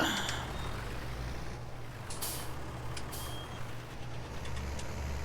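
Truck reversing in Farming Simulator 19: a low engine rumble idles steadily, with a brief hiss of air brakes and faint high beeps in the background, no voices.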